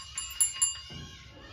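Pet aviary birds jingle a small toy bell set among Scotch pine cones, giving a few light, bright rings over a low background hum, with no talk.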